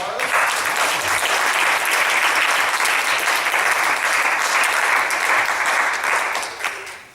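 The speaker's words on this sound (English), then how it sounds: "let's get them back inside with a big round of applause" An improv night audience gives a big round of applause, dense sustained clapping filling the room loudly for several seconds before tapering off at the end.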